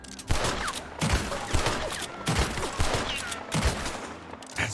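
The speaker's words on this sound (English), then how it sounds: "And that's just shooting him in the head." Gunfire in Red Dead Redemption 2, a string of sharp game gunshots fired in quick irregular bursts, loud and close with short echoing tails and no talk.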